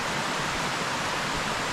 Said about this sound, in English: Heavy flow. A river water coming down here.